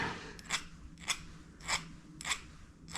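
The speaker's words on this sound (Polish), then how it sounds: "Teraz muszę po wycięciu oczywiście opiłować pilniczkiem." A small file rasps at the edge of a tiny cut silver heart, five short strokes spaced about half a second apart, close and clear over a quiet background.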